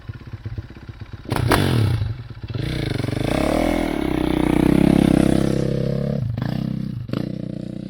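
A motorcycle on a desert track revs and accelerates close by. The engine drone rises and falls through gear changes, with a clattering thump partway through.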